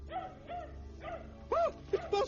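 A dog barks several times in short yips and bow-wows, moderately close, the last few barks louder and sharper.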